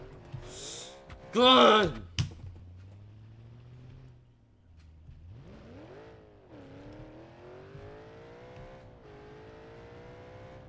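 Car in BeamNG.Drive at full throttle, engine note climbing and holding a strained, steady roar for several seconds after a short exclamation, with a player voice briefly heard over it.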